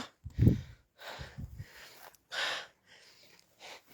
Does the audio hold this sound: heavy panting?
yes